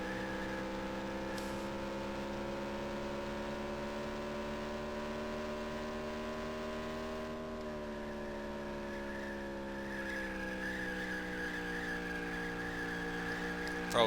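Race trucks circle a track in the NASCAR Racing video game, with a steady, droning engine note at close range whose pitch shifts slightly midway, accompanied by faint tire noise and no talking.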